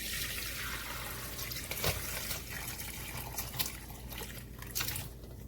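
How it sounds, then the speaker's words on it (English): Ginger lemon tea poured from a pot into a drainer, a continuous watery splashing stream with a few louder gushes, close and alone. "So we're going to go ahead and pour it in our drainer."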